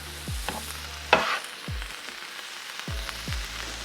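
Cheesesteak meat being tossed in a hot pan: bursts of sizzling and frying with a few scraping stirs, a sharper clatter near the middle, over a steady low hum.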